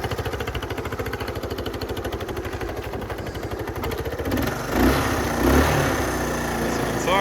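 A 1970 Honda Trail 90 fitted with an aftermarket carburetor idles close by, its quick even putter steady at first, then revving up slightly and roughening near the end.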